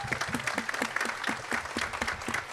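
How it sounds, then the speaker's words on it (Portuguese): A room full of people at an entrepreneurship and innovation talk claps together for a guest, with a steady, fairly close patter of many hands and a few individual claps standing out. "Salva de palmas aqui pro Alan"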